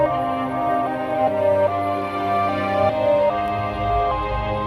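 A chopped sample processed with the Air Flavor bright and thin preset on an MPC Live, playing sustained tonal chords with a heavy low end that shift every second or so, steady and close with no voices.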